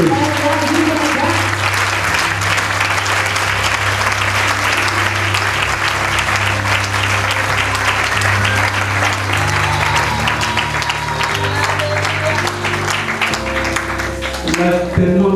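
Loud, sustained applause and cheering fills a church service as the congregation acclaims Jesus Christ, with a steady musical drone underneath and voices mixed into the clapping throughout.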